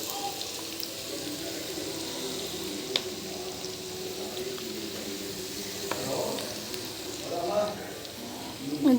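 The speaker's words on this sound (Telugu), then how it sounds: "అల్లం వెల్లుల్లి బాగా దీంట్లో ఫ్రై కావాలి ఆయిల్లో ఇప్పుడు దీంట్లో చికెన్ వేద్దాం" Chicken frying in oil with ginger and garlic in a tamarind-leaf chicken dish gives a steady soft sizzle under ongoing talk, with occasional stirring scrapes and clinks.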